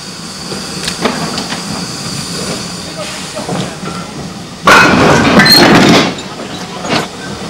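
Spanish narrow gauge steam train with old wooden four-wheel carriages, a low rolling rumble with faint clicks and a sudden loud burst of steam hiss lasting over a second, followed by quieter running sounds.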